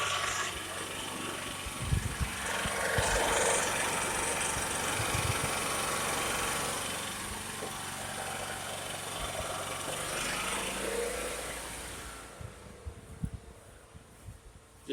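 A portable generator engine hums steadily up close, its drone holding for most of the time and then sputtering and fading as it runs out of fuel, leaving only faint thumps near the end.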